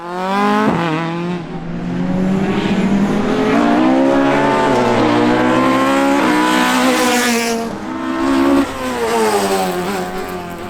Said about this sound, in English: Gregory McMillan has his little MX-5 absolutely on point to go fifth fastest in here.